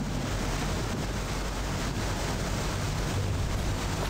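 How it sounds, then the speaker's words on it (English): Waves and wind wash over the side of a crab boat at sea in the Deadliest Catch video game, a steady loud rushing broadband surge with low rumble, continuous throughout without voices. "More water over the side."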